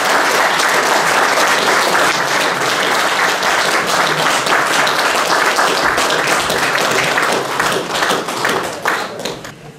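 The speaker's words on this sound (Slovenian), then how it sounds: "pa še en velik aplavz." A hall audience gives sustained applause at the centenary celebration of the Lukovica beekeeping society, dense and loud clapping from many hands that thins out and fades near the end.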